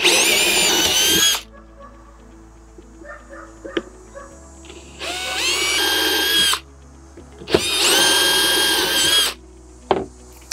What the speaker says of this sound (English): So I'm gonna drill off center.